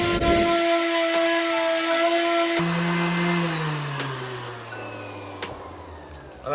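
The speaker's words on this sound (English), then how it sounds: "let's go ahead and just begin sanding the glue and the pencil lines off" Power sanding of a beginner's wooden box to remove glue residue and pencil lines, a loud steady motor whine with a droning hum that shifts and lowers partway through, running continuously without talk.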